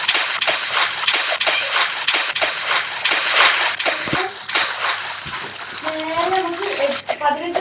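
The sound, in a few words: water splashing while swimming in Roblox video game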